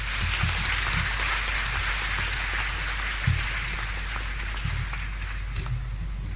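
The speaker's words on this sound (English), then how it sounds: "Shall we give the Vice-Chancellor another round of applause?" At a KNUST graduation congregation, a large crowd gives sustained applause. A dense, even patter of clapping carries on throughout, with a few louder claps standing out.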